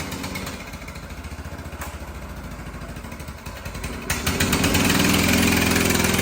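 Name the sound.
1960s vintage mini bike engine running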